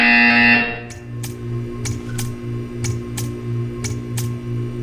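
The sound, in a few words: buzzer in Portal 2 video game test chamber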